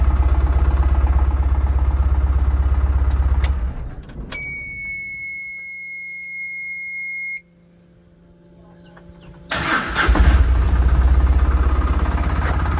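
A small engine rumbles, then a high electronic beep tone sounds over quieter idling before the engine fires up loudly again and runs steadily.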